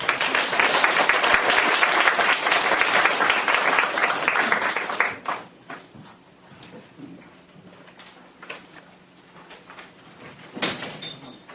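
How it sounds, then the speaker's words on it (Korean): Loud, dense applause from a lecture audience greeting the speaker at a philosophy colloquium, sustained for about five seconds before fading into scattered claps and room noise, with a brief knock near the end. "여러분들 환영의 박수 크게 보내주시기 바랍니다"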